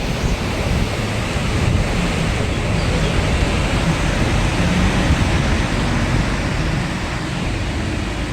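River water near Kanthaloor rushes and foams like soap suds after flowing down from a waterfall, making a loud, steady roar of broad noise that fills the whole stretch, with no voices.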